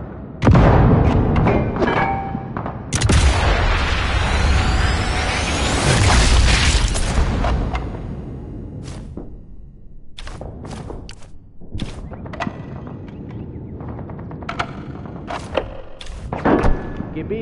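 Gunfire and explosions in a PS4 shooter game: heavy booms and thuds open, then a long roaring blast, followed by scattered sharp shots and impacts, with game voices speaking at times.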